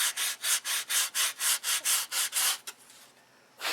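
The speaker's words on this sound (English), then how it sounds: "I will switch to 220 and we'll smooth all the grooves out of it" Wood being sanded by hand with 220 grit sandpaper in a carving workshop: eleven quick, even back-and-forth rasping strokes, close and loud, then a brief pause before one more stroke.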